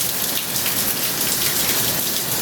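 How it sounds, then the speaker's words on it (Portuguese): Rain falls steadily outdoors near a garden, a dense continuous hiss of drops on surfaces, moderately loud with no voices. "a chuva começou a cair"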